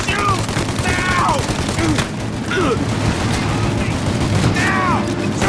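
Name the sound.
gunfire in the video game Mafia: Definitive Edition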